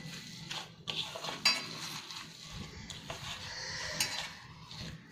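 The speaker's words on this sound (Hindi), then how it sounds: "अब इन सबको अच्छी से मिक्स कर देंगे और इसे अच्छे से भून लेंगे।" A spoon scrapes and clinks against a pan while semolina vada ingredients with salt are mixed and roasted, soft irregular stirring scrapes with a few brighter metallic taps, fairly quiet and without talking.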